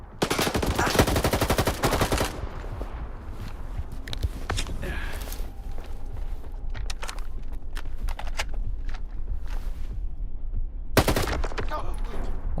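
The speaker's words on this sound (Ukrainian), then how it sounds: "С дробовика лупят." Shotgun blasts in the shooter game S.T.A.L.K.E.R. 2: Heart of Chornobyl, loud bursts of rapid gunfire at the start and again near the end, with scattered shots and footsteps between.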